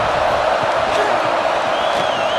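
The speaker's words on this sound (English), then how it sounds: "listen to this crowd noise. This stadium is vibrating." Football stadium crowd during a college game simulation, Notre Dame at Oklahoma, roaring in a dense, steady wash of cheering that fills the whole clip at high level.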